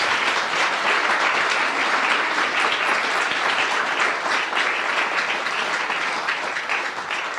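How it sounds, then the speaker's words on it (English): An audience claps for a performer in a long, dense, even round of applause that stays loud throughout and thins only slightly at the close. "Give her a big round of applause."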